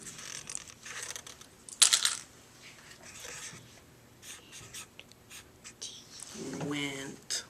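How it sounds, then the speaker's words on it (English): Pencil scratching across paper as a word is written by hand, in short bursts of scribbling with a sharp tap partway through, while a voice speaks near the end. "Write that word for me. Write went."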